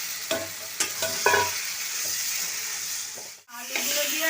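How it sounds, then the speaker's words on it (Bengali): Potatoes stir-fried in a pan with turmeric, chilli powder and a splash of water, a steady close sizzle broken by several scraping stirs and one brief dip near the end. "আমি একটু কষাই আলুটা"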